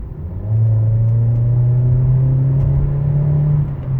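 A Mitsubishi Eclipse Cross with a 1.5-litre turbo and CVT automatic pulls away, its engine holding a steady droning hum from inside the cabin as the car gathers speed, loud and continuous before cutting off.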